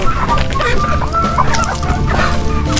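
Chickens cluck steadily at a chicken coop on a farm, with overlapping hen calls and a rooster-like crow, loud and close, with no talking.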